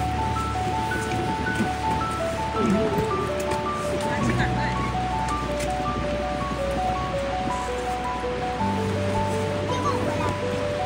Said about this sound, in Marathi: हे बघा छोटे छोटे धबधबे.